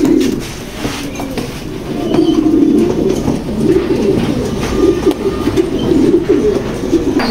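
A male black checker pigeon in a loft coos close by in repeated low, rolling phrases, with other pigeons and faint background noise around it.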